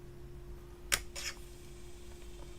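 A single sharp snip cuts a piece from a yellow polymer clay cane for stained-glass style work, followed by a softer second click, close and quiet with no voices.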